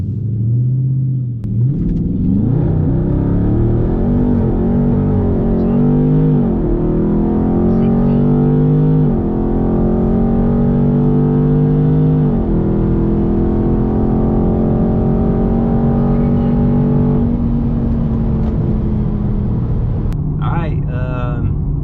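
A Dodge Charger 392 Scat Pack launching hard with traction control on, its V8 rising through long, loud, close revs with shift breaks, ending with a brief burst of voices.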